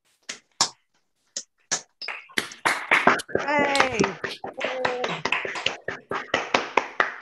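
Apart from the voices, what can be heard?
round of applause from unmuted colleague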